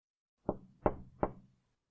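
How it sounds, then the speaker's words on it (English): Knuckles knocking on a thick acrylic aquarium window nearly a meter thick, three firm, evenly spaced dull knocks close by, each with a short hollow ring, with silence around them. "Crowley knocked against the window."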